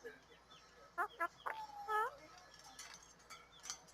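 A pet parrot at a pet store gives a few short whistled and squawked calls close by, scattered among quiet voices and shop background.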